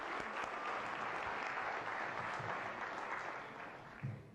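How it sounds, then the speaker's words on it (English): An audience at an indoor community event applauds steadily, a dense wash of clapping that holds for several seconds before thinning out near the end. "Let's give the brothers and sisters with God Collective a big round of applause."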